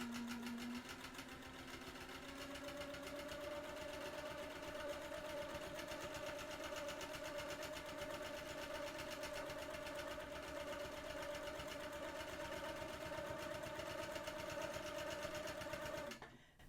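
A sewing machine quilting a feather design runs steadily at speed, a fast rapid stitching clatter with a rising whine, close and continuous, stopping at the end.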